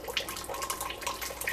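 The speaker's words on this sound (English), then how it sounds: "strain the plums" Liquid from cooked plums being strained while making homemade plum pectin, a steady close splashing and trickling stream of juice, with no talk.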